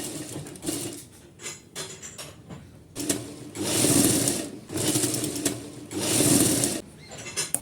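A sewing machine stitches a lungi: short stop-start runs at first, then three longer loud bursts of rapid mechanical whirring close by.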